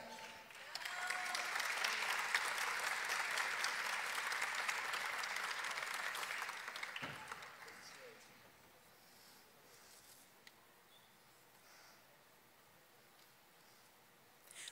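Sustained applause from a graduation audience at a spring postgraduate ceremony, a broad wash of clapping for about seven seconds that fades out, leaving a quiet hall with faint rustles.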